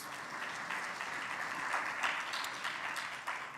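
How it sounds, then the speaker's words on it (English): An audience at a formal education report presentation applauds steadily, a continuous wash of clapping that stays fairly faint and distant throughout, with no talk over it. "let's give him another round of applause."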